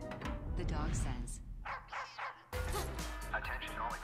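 A cartoon dog barks in short yips and bow-wows amid busy animated soundtrack noise and speech, with a sudden cut midway.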